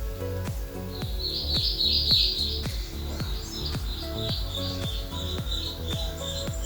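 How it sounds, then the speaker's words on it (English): Birds chirp and trill outdoors on a summer day, repeated bright calls and a sustained twittering burst standing out over steady rhythmic background music. "The birds just started chirping."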